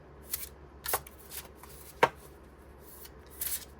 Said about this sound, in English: give this the quickest of shuffles